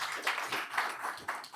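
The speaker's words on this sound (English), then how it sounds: "Please give yourselves a round of applause." A short burst of audience applause at a business leaders' dialogue, several uneven waves of clapping at moderate volume, fairly thin and brief.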